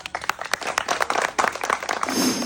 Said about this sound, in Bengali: জুড়ে একটা করতালি দর্শক বন্ধুরা